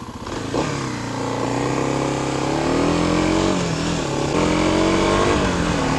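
A Kawasaki KLX 250 dual-sport motorcycle engine runs loud and close, holding a steady buzzing drone with slight rises and dips in revs throughout.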